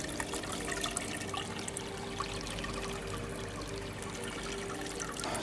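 Water trickles and pours steadily into a rainwater cistern through a clear PVC pipe, a continuous faint splashing flow without breaks.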